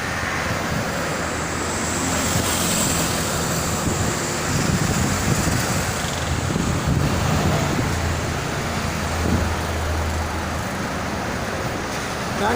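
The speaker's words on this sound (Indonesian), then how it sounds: "Anginnya sangat kencang sekali." Strong wind blowing across the Jakarta–Cikampek toll road, a loud, continuous buffeting roar with road traffic noise blended underneath throughout.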